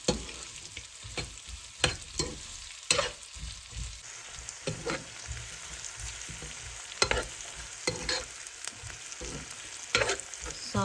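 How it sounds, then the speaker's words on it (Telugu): Onions frying for a Hyderabad-style chicken dum biryani, with a crackling sizzle and repeated scraping strokes as they are stirred around the pan at an irregular pace, close and without voices. "ఇది బాగా వేసుకొని ఇట్లా కలిపెట్టి బాగా ఫ్రై చేసుకుందాం"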